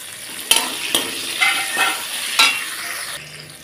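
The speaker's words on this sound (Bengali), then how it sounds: "এখন আগে এই যে কাজু আর কিশমিশটাকে ভেজে নিই" Cashews and raisins fry in hot oil in a pan, giving a steady close sizzle broken by several sharp clicks and scrapes of a spoon stirring, with no talk.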